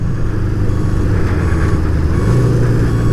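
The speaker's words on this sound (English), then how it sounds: "Get on the bike, listen to the music of the engine." A Honda CB550 Four motorcycle engine runs with a steady, close, loud low rumble and an even throbbing idle throughout.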